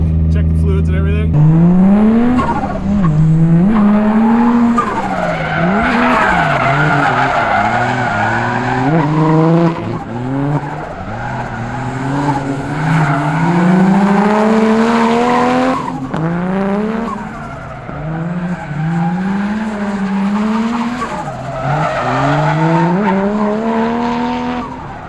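A Foxbody drift car with a 1JZ VVTi engine drifts on a small course by a hangar, the loud engine revving up and down in repeated surges as tires squeal continuously through long slides.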